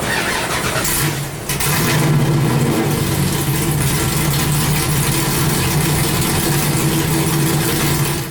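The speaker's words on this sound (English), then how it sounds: "So that first start was just to see how the car idled" An LS3-swapped Nissan S13 on a dyno cranks and fires up, then settles into a loud, steady, lumpy V8 idle that carries on alone throughout.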